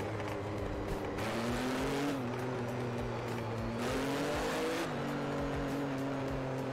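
Racing car engine from a Mercedes in the DriveClub racing game, a loud continuous drone that rises and falls through gear changes over nearly seven seconds, with some tire noise and no talking.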